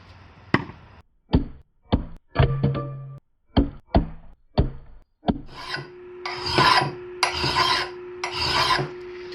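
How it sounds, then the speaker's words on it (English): A Simmons red-handled axe file rasps along the bevel of a throwing axe in short, separate strokes, about a dozen of them, close and loud with brief pauses between each pass. "I'm setting up the bevel on this axe with this Simon's red-handled axe file"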